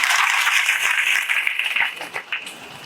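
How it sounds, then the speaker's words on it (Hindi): Applause from an audience at a statue unveiling ceremony for a martyred soldier, steady broadband clapping that holds for about two seconds, then thins and fades toward the end. "ताली बजा दिया करो यार"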